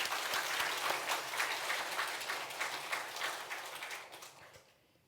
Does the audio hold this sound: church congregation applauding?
yes